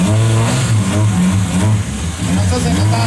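A red Peugeot 106 rally car revs hard at the start line of the night-time Rally Day Monti Nebrodi, its mid-pitched engine rising and falling in repeated close, loud blips.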